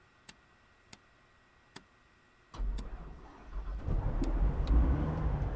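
Engine start of a Van's RV-10 aircraft in Microsoft Flight Simulator: three sharp ticks, then the engine catches with a low rumble that builds into a steady, rising roar.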